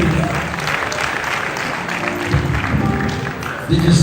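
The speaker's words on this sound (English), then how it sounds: "Can we give her a round of applause, please?" Sustained crowd applause at a Nigerian gathering honouring African entrepreneurs in the presence of the Ooni of Ife, dense and steady throughout with voices mixed in and a swell of louder clapping near the end.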